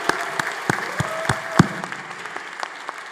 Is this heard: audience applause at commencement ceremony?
yes